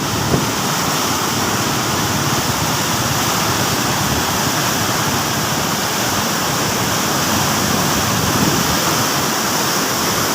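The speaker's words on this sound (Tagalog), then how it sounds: "Dito naman kung ano kalakas ang tubig na yan" Loud, steady roar of rushing flood water under the Macaiban Bridge, a constant broadband torrent that fills the whole clip without pause, close by and unbroken.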